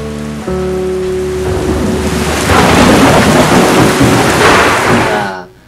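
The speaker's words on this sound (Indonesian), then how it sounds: "kalau perlu tambahin sound efek petir atau badai sekalian." A thunderstorm sound effect plays loudly after a brief hum, with heavy steady rain and a rolling thunder rumble that builds midway and then fades out abruptly at the end.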